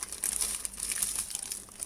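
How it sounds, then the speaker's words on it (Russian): A small plastic bag cut open, heard close up as a short burst of soft crinkling and rustling plastic, alone with no talk. "это я порезал пакетик"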